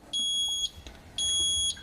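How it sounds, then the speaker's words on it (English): Two long, high electronic beeps sound about a second apart from a Fisher and Paykel washing machine showing fault code 130, each holding a steady tone, with quiet background noise between them. "So now it's beeping with the error code displayed across here."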